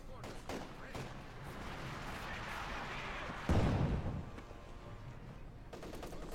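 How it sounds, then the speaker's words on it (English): An 82mm PM41 mortar fires in a war video game, one heavy low thump partway through rising above a steady backdrop of distant gunfire and battle noise, with a voice talking over it. "The PM41 82mm mortar. Shot fired."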